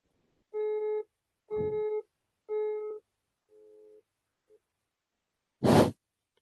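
A telephone busy signal heard while placing a call: three loud, evenly spaced tones, a fourth fainter one and a short blip, followed by a single breathy whoosh.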